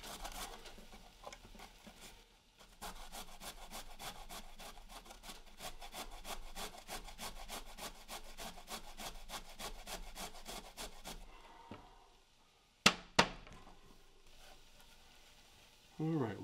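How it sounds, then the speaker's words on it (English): Hand grating of yam for Balinese donuts: a long run of quick, even rasping strokes up close, then the scraping stops and a couple of sharp knocks and handling sounds follow, with a voice briefly in the background. "We'll grate a little bit more of the yam."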